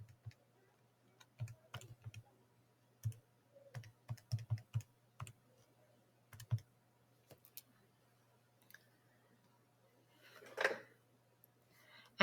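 Sparse clicks of small graphing calculator buttons being pressed in short irregular bursts, quiet and close, with a faint rustle partway through and no talking.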